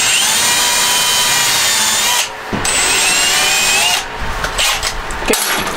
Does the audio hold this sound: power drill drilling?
yes